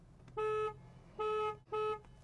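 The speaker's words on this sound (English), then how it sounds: "Now for the horn sound." A 2021 Volkswagen ID4 horn sounds three short honks, a longer one then two quicker ones, faint and with no talking.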